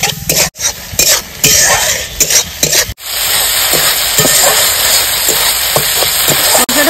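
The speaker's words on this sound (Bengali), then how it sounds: "শুকনো লঙ্কা বাটা, হলুদ গুঁড়ো, লবণ, জল দিয়ে মশলাটা সুন্দর করে কষিয়ে নেব।" Chilli paste, turmeric and salt masala cooking in water in a pan, a steady loud sizzle with repeated scraping stir strokes of a spatula and brief clinks against the pan.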